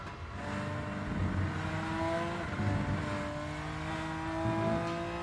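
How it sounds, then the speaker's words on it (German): BMW race car in the racing game Rennsport, its engine droning steadily with harmonic tones rising and falling through gear changes, loud and continuous with no talk over it. "der BMW in Rennsport ist vom Sound her definitiv das beste Auto"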